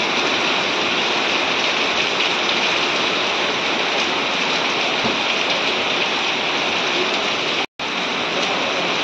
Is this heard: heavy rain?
yes